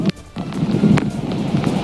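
Strong gusty typhoon wind roars continuously through trees outside a hotel in Albay, Philippines, with rushing surges and buffeting against the microphone, loud and close.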